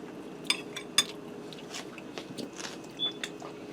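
A bite into a golden, well-seasoned air-fried potato, creamy inside, cooked in a Power XL Air Fryer Grill; soft close crunches and chewing clicks, a few sharp bites then quieter mouth sounds, no talking.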